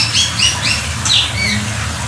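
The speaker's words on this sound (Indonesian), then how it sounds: "Dari Medan nih burung." A magpie robin (murai) songbird, a ringed bird from Medan, gives several sharp, close squawks and chirps in short bursts over a steady low background hum.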